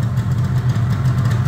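A Yamaha RD350LC two-stroke motorcycle engine idles as it warms up, a steady low burbling thrum with an even pulse, close and fairly loud.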